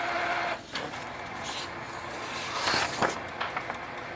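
A Canon Pixma G5020 inkjet printer runs a normal printhead cleaning cycle, giving a steady close mechanical whir with a few brief clicks and shifts in pitch across a few seconds.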